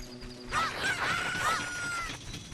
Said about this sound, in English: as soon as the rooster makes the sound